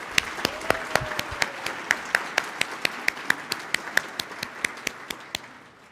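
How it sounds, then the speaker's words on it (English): An audience at a community awards ceremony applauds performers, with sharp, evenly spaced claps ringing out over a softer bed of crowd clapping that fades toward the end. "If we can give all of our performers one more round of applause,"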